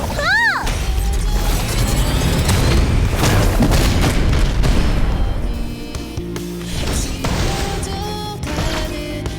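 A catapult launch in the Eversoul video game: a loud, dense boom with heavy crashing rumble that holds strong for several seconds, then slowly tapers, with game music tones over it.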